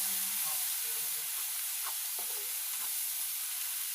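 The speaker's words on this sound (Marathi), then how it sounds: "ती ग्रेव्ही अशी छान परतून घ्यायची" An onion, tomato and garlic gravy with cumin sizzles in a hot pan. A steady, even hiss of frying continues throughout, close and moderately loud, with faint stirring.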